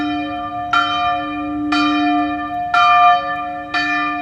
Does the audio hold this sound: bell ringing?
yes